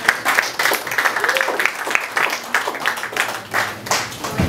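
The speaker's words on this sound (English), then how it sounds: "Give a round of applause for them." Audience at a stand-up comedy show breaks into a dense, continuous clatter of clapping that lasts throughout, with a voice talking over it.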